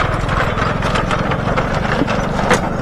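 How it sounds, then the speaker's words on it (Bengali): Motorcycle crossing a dangerous bamboo bridge over a river in Bankura, a steady loud engine drone with creaking and clattering of the bamboo slats beneath it. "বাঁশের ব্রিজের ওপর দিয়ে বাইক যাচ্ছে দেখুন"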